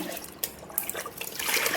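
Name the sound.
pouring liquid into container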